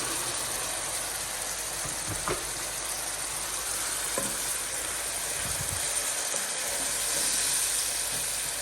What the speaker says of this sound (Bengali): আমি এই মশলাটার মধ্যে কষানোর জন্য একটু গরম পানি দিয়ে নিলাম